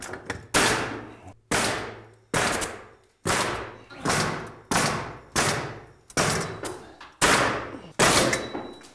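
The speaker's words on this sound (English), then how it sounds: "When you're nailing this, do not angle the nailer so much and closest to the roof" A pneumatic nail gun fires nails into metal structural ties on a roof, about ten sharp, loud bangs spaced roughly a second apart, each followed by a short decaying ring, with no talk.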